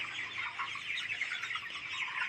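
Poultry farm chickens, birds about twenty days old and ready for sale, cluck and chirp steadily as a dense flock, a continuous moderate chorus with no talk.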